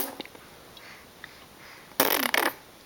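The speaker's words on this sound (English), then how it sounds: "What about a regular old fart noise?" A regular fart sound effect plays as a short, loud, raspy burst after a second or two of near-quiet with a few faint ticks, and it ends with a brief sputter.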